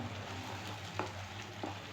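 Jackfruit and milk paste cooking in ghee while being stirred, a steady soft sizzle with a low hum underneath and a couple of faint spoon scrapes, close and alone.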